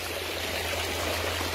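Water from a forest stream runs and trickles steadily at close range, a continuous broadband rush with no voices, lasting under two seconds.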